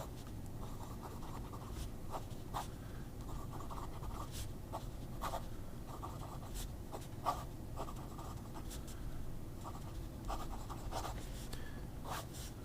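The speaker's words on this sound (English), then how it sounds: "is a Pelican 18 karat fine nib, just beautiful writer" A Pelikan fountain pen with an 18-karat fine nib writing on paper, faint soft scratchy strokes repeating in an irregular rhythm over quiet background noise.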